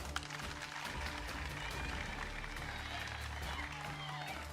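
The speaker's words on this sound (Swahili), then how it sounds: "Piga makofi." Schoolchildren clapping on command in a classroom, a dense, steady burst of hand claps from the whole group that continues evenly for several seconds alongside scattered voices.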